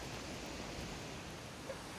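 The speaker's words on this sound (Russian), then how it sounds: "И ветер слышен очень хороший." Steady broadband rushing of wind through forest trees, a continuous soft roar with no distinct events, fairly faint and even throughout.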